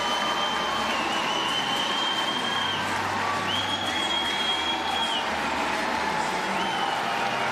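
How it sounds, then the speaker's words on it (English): Noisy crowd at the South Paris Arena during a Paralympic women's goalball quarterfinal, a steady roar of chatter and cheering with whistle-like tones rising over it, continuous and fairly loud. "a brilliant and noisy crowd at the South Paris Arena"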